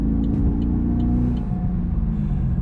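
A Holden Commodore VFII SS V8 accelerates with a steady, deep, loud engine rumble that keeps up throughout, heard from inside the car with no talking.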